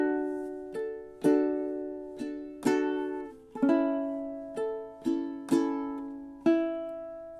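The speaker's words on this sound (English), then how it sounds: "Now measure 13 and 14 together should sound like this in time." Ukulele playing measures 13 and 14 of a song, mixing thumb picking and strumming: a steady run of about a dozen chords and plucked notes, each ringing briefly before the next, close and alone.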